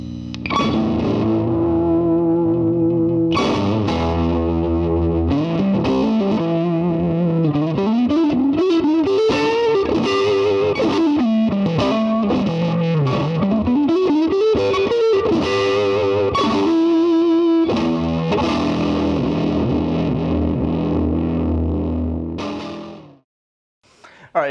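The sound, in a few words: Vox AC30 guitar amp cranked fully, pentode on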